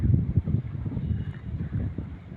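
Wind off a river gusts, buffeting the microphone in low, rumbling bursts, fairly loud and uneven, with no voices.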